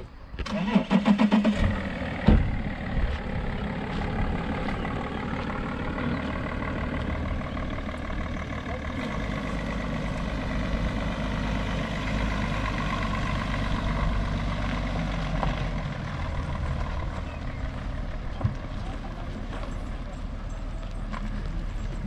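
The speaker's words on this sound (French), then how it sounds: "on refait un dernier tour pour le voir un peu rouler de dehors" A camper van's engine cranks and starts with a rough burst, then settles into a steady, loud idle and drives off, the motor droning continuously and close throughout.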